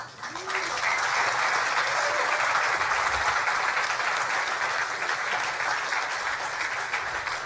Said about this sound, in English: How about another round of applause for Greg Hayes